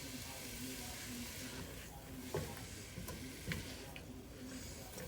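Food sautéing in a larger pan on the stove, a steady soft sizzle with a few light clicks of a utensil, faint and continuous throughout.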